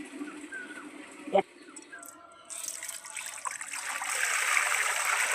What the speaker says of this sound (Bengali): অল্প জল দিয়ে দেওয়া হচ্ছে